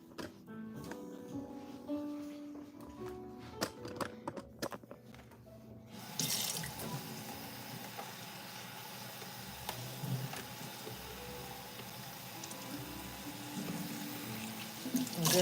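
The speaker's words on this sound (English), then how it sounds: "I'm doing the lazy rinse where I just kind of fill the container with water." Tap water runs into a container for a quick rinse of sunflower seeds and lemon while making pasta from scratch, a steady splashing fill beginning partway through after quieter kitchen clatter, fairly close and moderately loud.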